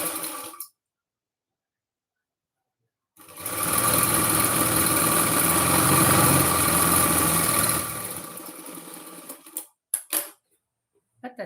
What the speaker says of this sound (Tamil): இப்படி 2 உதறிட்டு, இப்படி ஒரு தையல போட்டுருங்க.